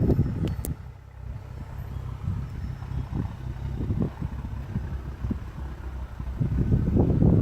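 A BMW 535i F10 with a new down-pipe idles close by, a low, steady exhaust rumble with a few brief higher clicks early on and the rumble swelling toward the end.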